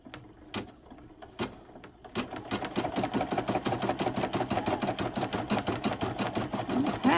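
An embroidery sewing machine stitches a zigzag in the hoop: a few isolated thumps, then a fast, steady mechanical rattle of needle strokes running on close and fairly loud.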